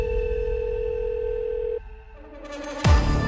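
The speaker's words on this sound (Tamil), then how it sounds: "திடீர்னு 10:30 ஒரு ஃபோனு." A telephone rings in a thriller trailer: a steady electronic tone that cuts off, followed by a short burst of dramatic sound at the end.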